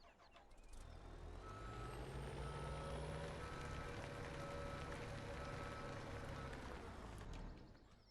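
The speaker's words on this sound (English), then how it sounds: "Now we can get our truck pulled in here and backed around" A truck backs up in Farming Simulator 17, its reversing alarm beeping steadily over a constant diesel engine drone. The sound stays loud and close for about seven seconds before fading.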